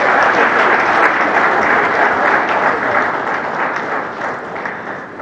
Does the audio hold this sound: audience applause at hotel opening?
yes